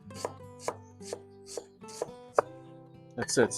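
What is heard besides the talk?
knife chopping baby cabbage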